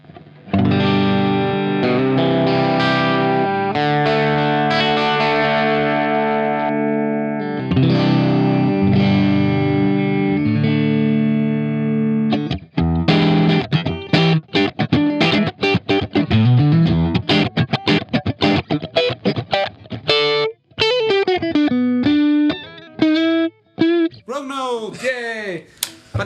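Strandberg electric guitar on the bridge pickup through an amp modeler, with a bright, driven tone: sustained chords first, then choppy muted strums and single-note runs, loud and close.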